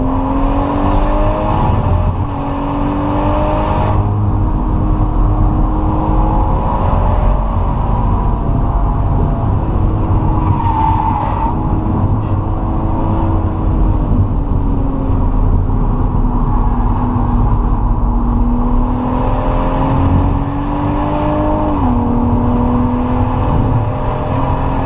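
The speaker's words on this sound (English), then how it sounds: "So it makes really good power right at the top and rewards you for revving the car out" A remapped BMW M140i with its engine tuned to about 460 bhp revs and accelerates loudly and close by, its engine note climbing and falling repeatedly through gear changes across the whole stretch.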